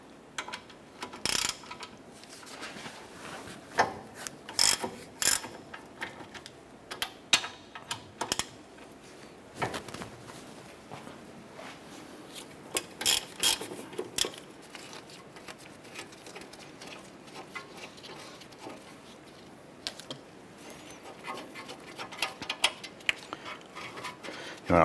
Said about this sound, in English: Using a 17mm socket, we're going to go ahead and remove our brake caliper bracket bolts.